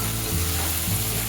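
Marinated prawns sautéing in a pan over medium gas, a steady dense sizzle with scraping stir strokes, close and continuous without talk.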